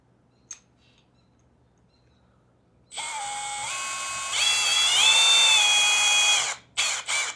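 A small power drill with a diamond bit whines up after a brief click, its pitch stepping higher midway before it stops and gives a few short bursts, loud and close.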